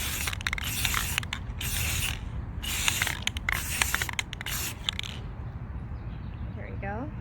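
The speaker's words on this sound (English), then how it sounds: "So just spray it." Several short hissing bursts from a spray can, about five in quick succession, over rustling and handling noise, then the spraying stops.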